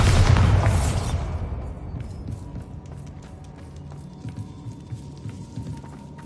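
The Bombarda spell in Hogwarts Legacy bursts in one loud, close explosion at the very start, then fades into a lingering rumble and soft ambient sound.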